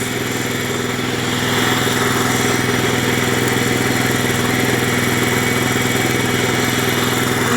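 A walk-behind tractor engine drives a self-excited generator, running at a steady loud idle with a constant low mechanical drone and hum, close and uninterrupted throughout.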